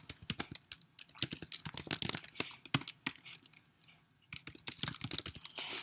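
Java code being typed on a computer keyboard: rapid, irregular bursts of close key clicks with a short pause mid-way, no talking.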